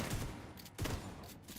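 Gunfire from the video game Division 2, a few sharp blasts at about a second apart, fairly loud against a busy game soundscape, with no talk.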